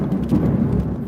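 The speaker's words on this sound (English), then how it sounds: "Thunder." Thunder during a tornado-chasing storm, a short low rumble that rolls steadily, moderately loud and without talk.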